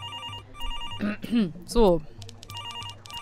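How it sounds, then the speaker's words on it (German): A telephone rings repeatedly in the game Demetrios: The Big Cynical Adventure, with a steady electronic ring pattern running under a man's brief spoken exchange. "Hey, hören Sie nicht, das Telefon klingelt."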